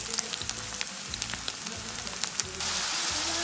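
Carrots sizzle and fry steadily in a hot pan for a home-made salad, a dense crackling hiss with scattered pops and brief stirring clatter, growing a little louder near the end.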